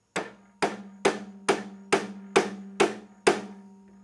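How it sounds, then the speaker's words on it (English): A mallet pounds a chuck onto the spindle of a Jet JDP-17 3/4 HP drill press, giving eight evenly spaced, sharp, close knocks about half a second apart, each ringing briefly, with no other sound. "and then pound it home with a mallet."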